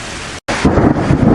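A loud thunderstorm with steady heavy rain, a deep rolling thunder rumble building under the hiss of the downpour after a brief dropout.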